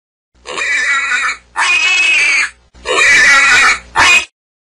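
Loud, close pig squeals and grunts in four separate bursts, the last one short, with silence between them.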